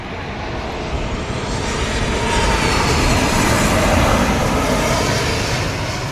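A jet airliner takes off at Cochin International Airport, a loud broadband engine roar that swells and holds steady as it climbs, with no voices.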